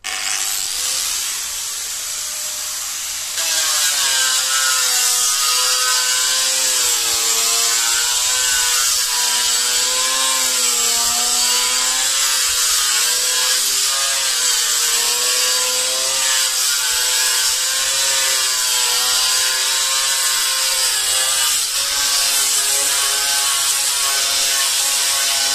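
An angle grinder with a coarse sanding disc works a wooden beam for a large carport, starting after a short quiet lead-in and holding a loud, continuous whining grind with wavering pitch as it moves over the wood.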